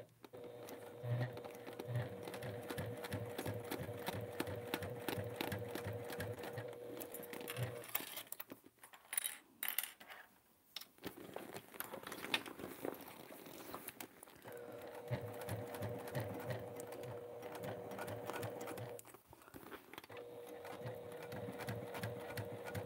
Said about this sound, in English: So one stitch at a time, because the purple floral vinyl is a little sticky.